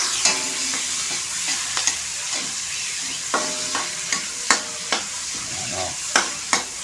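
Tomatoes and vegetables for Filipino pakbet fry in a pan, a continuous sizzle broken by repeated sharp clacks and scrapes of a utensil stirring, close and fairly loud with no speech.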